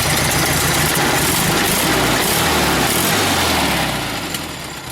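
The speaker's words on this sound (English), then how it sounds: "like any old Volkswagen engine, it's going to run a little choppy while it's cold" A loud, rough 1973 Volkswagen Beetle engine idles cold close by with an uneven, chugging rhythm, fading slightly near the end.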